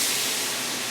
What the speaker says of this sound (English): I'm going to add this and it's going to sizzle,